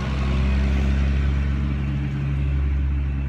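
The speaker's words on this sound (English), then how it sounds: "Wait for that big cement truck to go by." A big cement truck drives by outdoors with a loud, steady low engine drone and rumble that stays constant and close throughout, with no talking.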